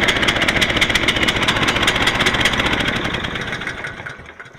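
A small Predator gasoline engine on a Harbor Freight sawmill runs steadily with a loud, rapid, even putter, then fades slightly toward the end, with no talk over it.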